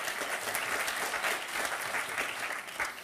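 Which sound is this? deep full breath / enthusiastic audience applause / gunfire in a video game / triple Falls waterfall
enthusiastic audience applause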